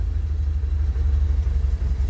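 A 34-year-old, 50,000-mile car engine idles steadily at about 900 rpm, a close, continuous low rumble with no voices over it.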